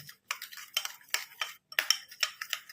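Spoon stirring a tomato, lemon and curd face pack in a bowl, with repeated close scraping and clinking strokes in an uneven rhythm and no talking.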